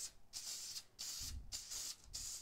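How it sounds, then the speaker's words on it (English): Four short hissing bursts from a spray glue can, evenly spaced, close and fairly quiet, with brief pauses between sprays. "you're gonna spray the glue all around"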